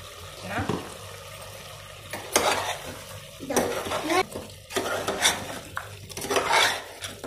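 Mutton curry with chili powder stirred in a pan, scattered metallic scrapes and clinks of a spoon against the pan in bursts, fairly close, with quiet sizzling and room noise between strokes.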